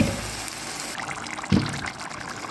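Chopped tomatoes slide wetly into a pan while Egyptian-style mahshi cooks, a brief close pour and splash with a soft thud midway.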